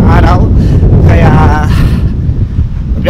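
Strong wind blows outdoors at a high school on a hot, bright early evening, roaring and buffeting the microphone continuously with rumbling gusts throughout.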